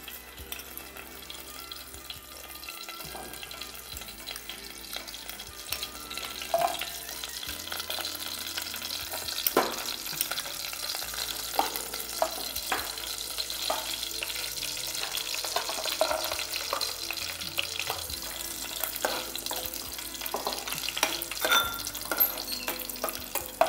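Ghee-based frying for carrot payasam, a steady sizzle with stirring scrapes and occasional clinks running throughout at moderate level, no voices present.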